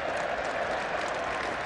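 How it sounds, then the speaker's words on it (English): A cricket crowd at a 1984 match in England applauds on the first morning, a steady mass of clapping from the stands, sustained and fairly loud throughout with no talk over it. "sympathetic and relieved applause from what is not a bad crowd in the first morning of this match."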